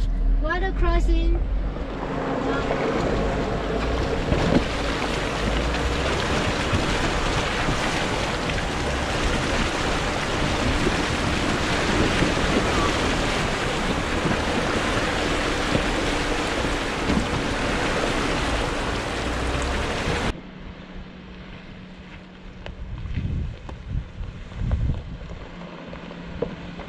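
Loud, sustained rushing and splashing of water around a vehicle as it drives through a crossing, with engine noise beneath; it cuts abruptly to quieter rumbling near the end.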